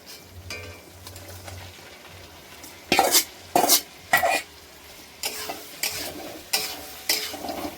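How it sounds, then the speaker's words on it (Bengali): Cauliflower and potato frying in spiced oil: a background sizzle broken by bursts of a spatula scraping and clattering against the pan as the vegetables are stirred, loud and close, with no talk. "এবার ফুলকপি আলুটা দিয়ে দেবো।"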